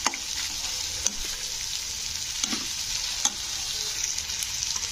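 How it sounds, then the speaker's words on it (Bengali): Onions frying in a pan and being gently stirred until reddish, a continuous close sizzle with occasional scraping strokes and light clicks of the spoon, no talk. "এইভাবে হালকাভাবে নাড়াচাড়া করতে করতে পেঁয়াজটা কিন্তু ভেজে নিতে হবে একটু লালচে কালার করে"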